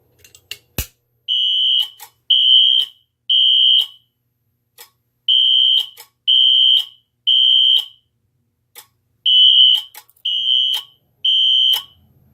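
Wheelock NS-24MCW fire alarm horns sounding a code 3 temporal pattern at low volume, three loud shrill honks then a pause, repeated three times, with sharp clicks between groups.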